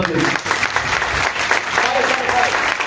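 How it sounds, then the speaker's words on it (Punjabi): A congregation claps loudly at a Sunday worship service, dense continuous applause with voices mingled in the crowd noise. "ਇਹ ਗੱਲ ਜੋਰਦਾਰ ਤਾਲੀਆਂ ਖੁਦਾ ਦੀ ਦੋ"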